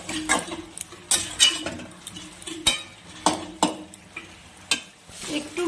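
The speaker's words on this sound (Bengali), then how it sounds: "ভালো করে নাড়াচাড়া করে নেব।" A spatula stirs bottle gourd and egg with dry-roasted ground coriander and cumin in a pan, producing close, irregular scrapes and sharp metallic clinks against the pan in uneven bursts, over a faint sizzle.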